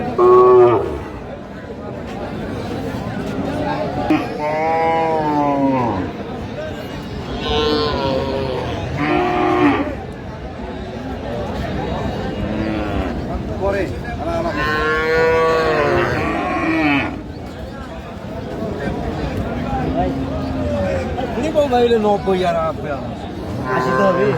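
Cows mooing repeatedly at a busy cattle market, several loud drawn-out calls near and far, overlapping with people talking and bargaining throughout.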